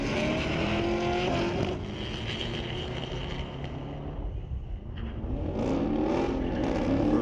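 A Mustang and a Corvette drag racing in a street-legal grudge match at Mission Raceway Park, engines roaring steadily from a distance, dipping midway, then climbing again as the cars pass.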